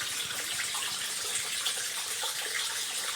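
Water flowing steadily near a road at Wadi Moussa in Morocco, a continuous broadband rushing wash with no breaks, moderately loud throughout.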